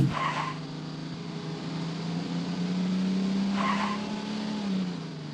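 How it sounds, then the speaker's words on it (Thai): A car skids off a damaged, gravel-strewn rural road after braking at high speed: a steady engine drone with two short bursts of gritty scraping noise, one at the start and one midway. "ยานพาหนะของเขาเสียหลัก เขาพยายามจะเบรก แต่ไม่สามารถควบคุมรถได้ ดังนั้นเขาจึงลื่นแฉลบออกข้างทางไป"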